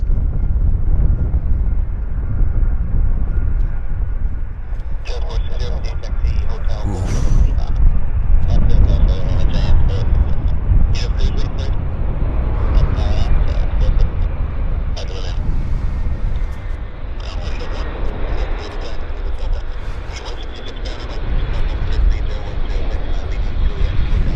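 An airplane taxis toward the runway at Vancouver Airport, a loud, sustained low rumbling engine drone with intermittent higher whining, while voices talk over it.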